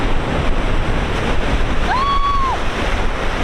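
Broad, continuous roar of ocean surf crashing on rocks at Point Lobos, California, with wind noise and a brief whistling tone rising and fading partway through.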